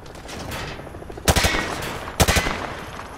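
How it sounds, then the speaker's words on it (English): Rifle fire at range targets in Call of Duty Modern Warfare 2: two loud, sharp bursts of rapid shots, each a tight cluster of cracks, separated by about a second of quieter background ambience. "Grab that weapon off the table and fire at the targets behind you."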